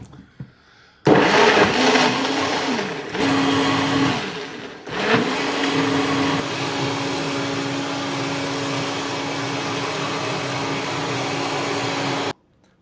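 A kitchen blender whirs loudly while making a smoothie, starting abruptly, dipping in pitch in two brief pauses, then holding a steady high motor whine until it cuts off.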